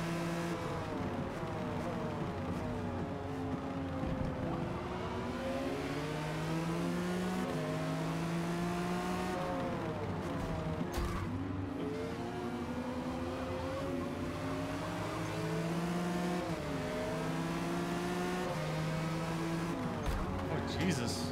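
A Mercedes CLK GTR race car in Forza Motorsport, Open R Class, revs hard through rising and falling gear shifts for about twenty seconds, loud and up close, with someone talking over the engine.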